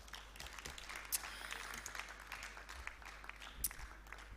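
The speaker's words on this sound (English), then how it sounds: "Can we give her another round of applause?" Audience applause for a trade minister at a high-level trade dialogue launch event, a steady patter of many hands clapping at moderate distance with a couple of louder claps standing out, no talk over it.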